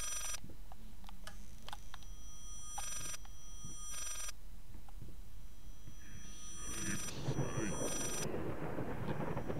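A telephone rings in the psychological horror game Layers of Fear. The bell comes in several short repeated bursts over a low rumbling ambience, with no one speaking.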